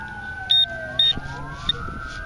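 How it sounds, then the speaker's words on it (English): Emergency vehicle sirens wail near a local park, their long wavering tones sliding up and down at moderate distance, overlapped by a few sharp electronic beeps close by. "that's a lot of sirens going off"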